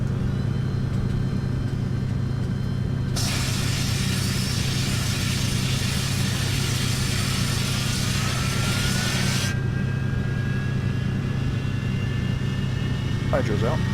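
An EE Lightning jet engine spools up in Flight Simulator X: a steady, loud rumbling drone with a rising whine that climbs in pitch, a broad roar partway through, continuous and close.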